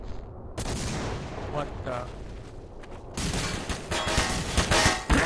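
Rifle-style gunfire in the multiplayer game The Hidden: Source, with rapid bursts of shots crackling loudly and continuing through the clip, while a voice speaks briefly over the shooting.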